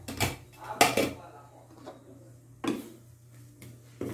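A utensil scrapes and knocks against a metal pot of kamias jam in irregular bursts, with quieter gaps between strokes.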